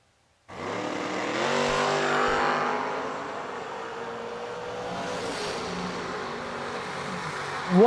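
A race car at World Wide Technology Raceway roars in suddenly and loud, its engine note climbing then settling into a steady drone as it runs past, with a sharper burst rising at the very end.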